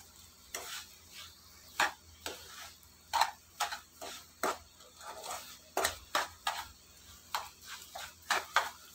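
Sugar and semolina are stirred together, a spoon scraping the dry mix in a run of short, repeated strokes at an uneven rhythm, close and quiet, with no voices.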